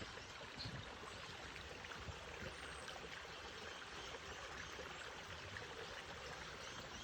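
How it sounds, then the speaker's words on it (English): A faint, steady babbling brook beside a hiking trail in Big Canoe, Georgia, water trickling and gurgling continuously in the background with a soft hiss, no voices. "You hear a babbling brook over here."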